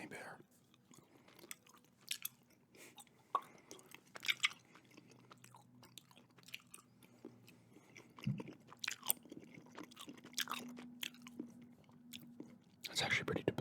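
Chewing and biting on Kraft macaroni and cheese gummies, with soft close-up mouth sounds and occasional crunchy bites scattered across a quiet background, plus faint whispery noises.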